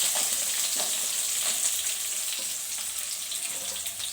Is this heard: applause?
no